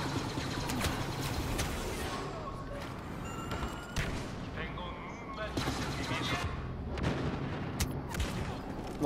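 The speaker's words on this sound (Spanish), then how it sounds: "le di un balazo y lo maté" Gunfire rattles on a Star Wars Battlefront battlefield: dense, overlapping shots and blasts hit in rapid bursts over a constant loud din, with voices mixed into the clamor.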